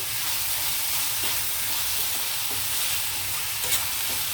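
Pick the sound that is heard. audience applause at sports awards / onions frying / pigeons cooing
onions frying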